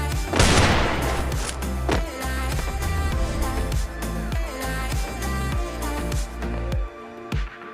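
Gunfire from a shooter video game comes as rapid bursts of sharp shots and thumps, layered over dense, busy game audio with no break in the action.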